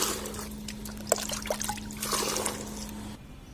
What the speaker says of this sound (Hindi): मैंने सरसों खली की खाद को पानी मिला के बराबर डाइल्यूट कर लिया है